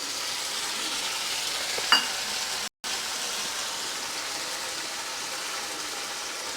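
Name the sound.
tomatoes added to a frying pan for vegetable biryani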